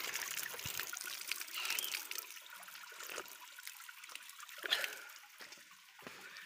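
Water trickling and splashing at a natural mountain spring beside hillside fields, a steady outdoor dribble with a few louder gulps and splashes as someone drinks from it.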